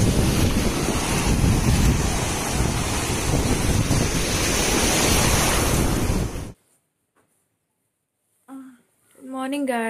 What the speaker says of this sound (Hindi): बाहर इतनी अच्छी वेव्स की आवाज़ आ रही है